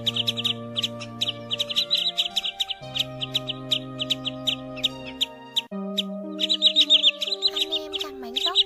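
Common greenshank calls ring out as rapid, bright repeated chirps and trills, loud and close, over sustained tonal notes that shift in pitch, with no talking.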